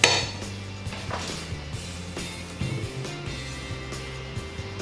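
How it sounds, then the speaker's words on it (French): Metal clinks and knocks from a saucepan as butter goes in for choux pastry dough, a few sharp light taps spread irregularly over a few seconds in a quiet kitchen. "dans une casserole, on va mettre le beurre"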